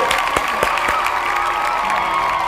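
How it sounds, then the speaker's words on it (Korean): An audience clapping together indoors, dense continuous applause from many hands with some cheering voices mixed in, loud and close throughout. "박수 한번 같이 칠까요?"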